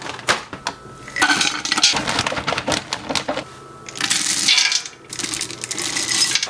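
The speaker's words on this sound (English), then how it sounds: "I'm gonna throw them in my pot with a little bit of lemon juice and honey" Wild blueberries patter and clatter into a metal pot in several rattling pours, with brief clinks between the bursts.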